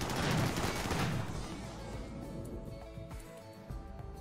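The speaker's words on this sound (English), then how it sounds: "Look at the fusillade of gunfire coming in at these things." A dense volley of rapid turret gunfire in the video game RimWorld, loud at first, then thinning out into scattered shots and mechanical hum.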